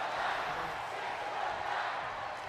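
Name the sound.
crowd chanting in WWE 2K25 video game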